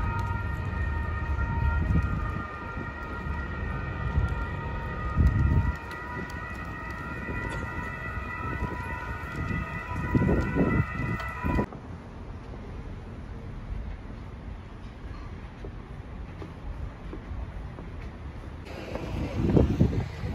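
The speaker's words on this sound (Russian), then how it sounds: "когда сирены постоянно гудят" Sustained siren tones drone over a low rumble of city traffic in Genoa, Italy, then cut out partway through, leaving background noise and distant rumbling.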